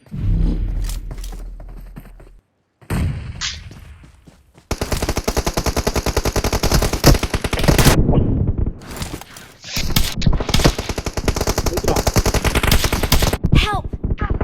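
Automatic and rapid gunfire bursts in the battle royale game PUBG Mobile, loud and close, firing in long dense strings broken by short pauses, with a player's voice briefly audible early on.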